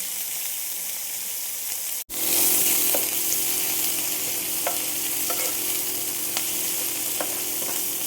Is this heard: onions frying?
yes